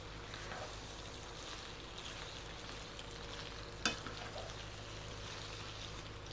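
Pasta with a cup of mozzarella being stirred in a pan gives a faint, steady sizzle and soft scraping, and one brief clink of a utensil stands out partway through.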